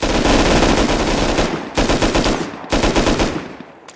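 Loud, rapid automatic gunfire from a shooting video game raid, dense bursts broken by two short pauses and fading at the end, close and without talk.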